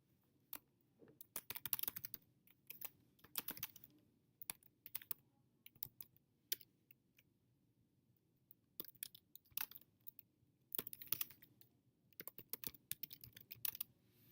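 Someone types on a computer keyboard, bursts of quick, crisp keystrokes broken by short pauses, close but faint over a low hum of room noise.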